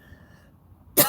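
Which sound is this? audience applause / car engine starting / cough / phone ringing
cough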